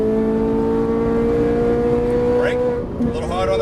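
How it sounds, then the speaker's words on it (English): A Ferrari 458 Italia accelerates at full throttle in a loud, steady engine howl heard from close by, then briefly dips as it upshifts before pulling again, with someone speaking over it. "roll on the throttle all the way down. Right hand upshift."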